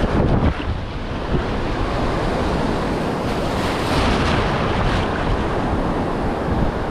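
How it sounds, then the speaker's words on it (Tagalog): Big ocean waves roar continuously during a typhoon, with heavy wind buffeting the microphone in a dense, loud, unbroken wash of surf noise. "Ayun na naman yung malalaking alon."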